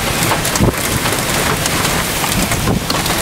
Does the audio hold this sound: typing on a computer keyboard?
no